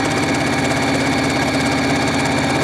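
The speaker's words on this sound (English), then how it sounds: "So I'm going to go here, I'm going to hold the fabric here like this," Sewing machine stitching fabric strips with a 1/4 inch foot, giving a loud, steady, rapid mechanical whir that runs continuously and close up.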